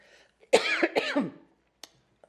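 A person clears their throat and coughs in a few harsh, close bursts, followed by a couple of faint clicks and then quiet.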